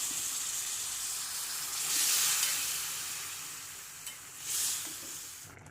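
Pumpkin kootu with lentils, ground coconut and a little water being stirred in a pan, a soft steady sizzle with two brief louder scraping swells of the spoon, close and without talk.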